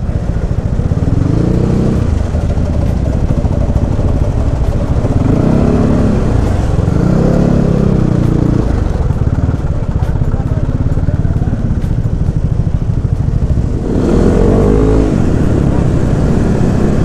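Bore-up Yamaha NMAX scooter with a racing exhaust revving in city traffic, loud rasping bursts that swell and fade several times over a constant engine roar.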